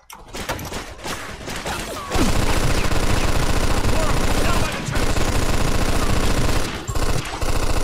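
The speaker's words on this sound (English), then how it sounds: "Get on that machine gun." Rapid, sustained machine gun bursts fire in a Mafia II shootout, loud and dense with a brief pause mid-volley, ringing close over the action.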